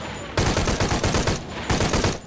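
Rapid automatic gunfire in the video game Shadow of the Tomb Raider on Xbox One X, in two long, loud bursts with a brief pause between, close and punchy, each burst a dense rattle of shots.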